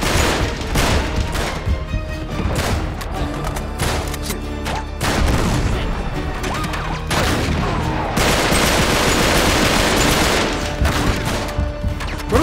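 Dense enemy gunfire in Uncharted 3: Drake's Deception, a sustained fusillade of rapid shots and booms with loud bursts and short lulls, continuous throughout.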